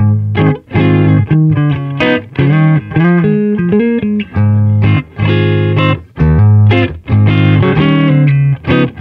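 A warm, thick electric guitar humbucker pickup tone on a Granville Bugs custom guitar plays a series of clean jazz-style chords and notes, close and fairly loud, with short gaps between phrases.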